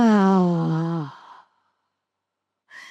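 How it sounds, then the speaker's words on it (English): A long, drawn-out exhale during a relaxation breathing exercise, with a voiced, sigh-like start that fades into a soft breathy tail, then silence and a brief faint breath at the end. "Make the exhale really long."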